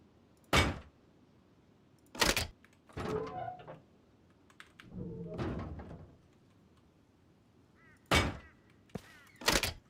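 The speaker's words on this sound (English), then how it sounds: "Now, I'm going to go ahead and finish the doors I have down here." Doors are placed during base building in the video game Rust on console, giving several sharp thuds and clunks spaced apart, with a few longer rattling build sounds in between.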